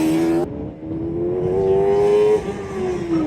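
Autocross cars at a Pro Solo event accelerating on course, a loud steady engine drone rising in pitch as a car pulls away, with no talk.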